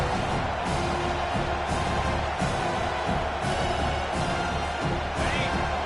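A home crowd at a football game on third down makes a loud, steady roar of cheering that fills the whole stretch like a dense wash.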